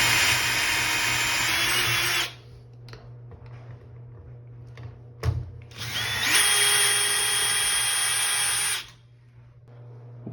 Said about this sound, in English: These screws are super long, so I use a drill.